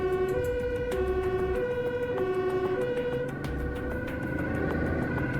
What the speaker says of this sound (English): Oh, we've got a change in siren there as well.